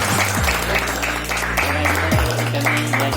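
Applause for friends at an alumni reunion of former Vidyamandir Harkul Khurd students, with steady crowd clapping throughout and a low sustained electronic tone underneath.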